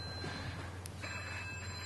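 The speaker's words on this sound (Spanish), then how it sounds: "creo que ese es mi teléfono, un segundito." A mobile phone rings in a council chamber during an ordinary council session, a faint electronic tone sounding steadily over a low room hum.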